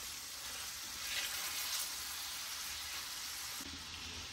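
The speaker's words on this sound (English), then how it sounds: "when you're frying, make sure you mush the tomatoes in" Vegetables and tomatoes for pinakbet sizzle in a hot pan in a soft, steady, close frying hiss with faint stirring, and no talking over it.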